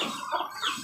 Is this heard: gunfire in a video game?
no